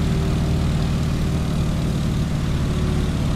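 Stearman biplane's propeller and radial engine in Microsoft Flight, throttled to cruise with the propeller at 1900 RPM: a loud, steady, low droning roar that holds evenly throughout.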